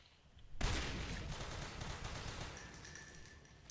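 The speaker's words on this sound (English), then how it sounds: "arcs are siege units that are controlled by the Marine commander, and they can actually shoot siege shots through walls." ARC siege units firing in Natural Selection 2, a sudden loud barrage erupting after a brief quiet and rolling on as sustained rapid gunfire and booming blasts, fairly distant and unbroken.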